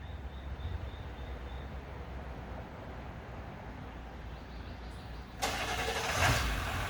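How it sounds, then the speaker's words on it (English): A loud truck engine fires up after several seconds of quiet background hum, bursting in abruptly and then running rough and throaty at close range to the end. "you got to have the loudest truck around"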